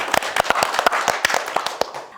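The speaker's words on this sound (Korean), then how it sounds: "자, 이대로 박수 한번 쳐줘." Sharp, irregular hand claps from a small group in a television talk-show studio, about a dozen crisp slaps in quick succession that trail off near the end.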